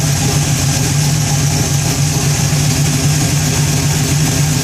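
A Chevy engine idles steadily and loudly up close, a constant low rumble with a faint rough pulse and no voices over it.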